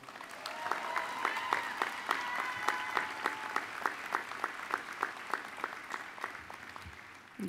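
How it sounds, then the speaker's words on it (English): A commencement crowd claps steadily, many hands producing a full, even round of applause that holds at moderate loudness and fades near the close. "Can we give Michaela one more round of applause?"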